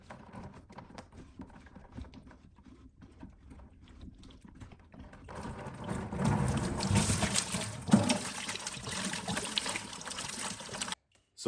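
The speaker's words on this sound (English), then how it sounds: "we're letting all that water out of the line before we go to remove this" Water drains from a whole house filter line with a trickling, hissing flow that starts faint and grows louder and denser midway, then stops abruptly.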